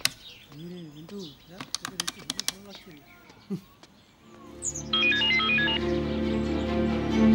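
A phone call rings out in a Hindi-dubbed crime drama after a short dialing sequence of beeps, the ringing tone sounding steady and electronic in the second half under music and effects.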